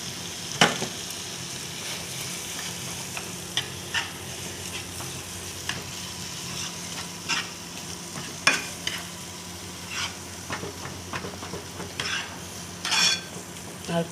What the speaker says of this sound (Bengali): আর একটু ভালো করে কষিয়ে মারবা।